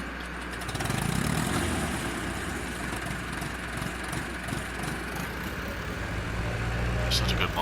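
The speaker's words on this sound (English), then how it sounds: "Now we'll hook this tractor up to it so you guys can see it running." A tractor engine in Farming Simulator 19 runs steadily with a low, continuous rumble and drone, under a voice talking over it throughout.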